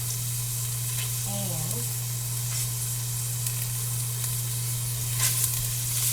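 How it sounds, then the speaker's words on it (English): Onion softens in a pan for turkey stew, giving a steady, even sizzle and hiss close by, with a low electrical hum underneath and a few faint stirring clicks. "I'm going to soften my onion"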